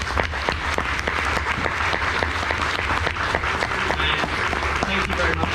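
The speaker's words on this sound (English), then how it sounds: "So first of all, a massive round of applause for our drivers." Sustained loud applause from a large audience at a British Touring Car Championship event at Silverstone, dense steady clapping filling the whole clip.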